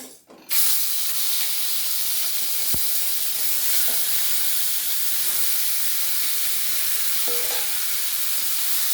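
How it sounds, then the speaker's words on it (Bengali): Lote fish, Bombay duck, frying in hot oil in a wok, a loud sudden burst of hiss and sizzle as the pieces go in, then a continuous close crackle with a few small clinks. "এবার মাছগুলো আমি একে একে দিয়ে দেবো তেলের মধ্যে।"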